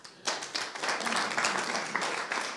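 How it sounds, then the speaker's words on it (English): Conference audience applause at a science meeting, a dense burst of many hands clapping that starts abruptly and carries on steadily, moderately loud in a hall. "So let's give him a round of applause."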